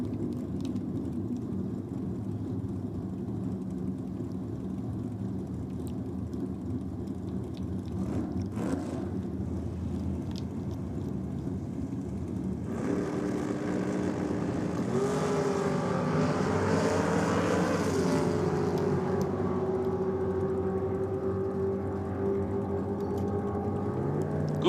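A red LH Torana with a 454 cubic inch engine makes a drag racing run, a distant engine roar that swells louder partway through and holds a rising, sustained tone, with no voices.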